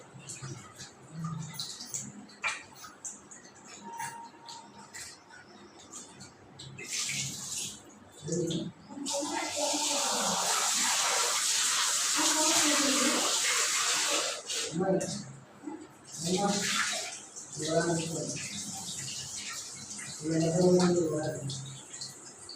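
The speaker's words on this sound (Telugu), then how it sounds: "మటన్ అయితే బాగా కడిగేసిన మళ్ళీ నీళ్ళు పోసి కడిగి తర్వాత వేసేస్తా" Water splashes and pours over mutton pieces as they are rinsed in a vessel at home, in bursts of running and sloshing water mixed with handling noise, and a voice talks between the bursts.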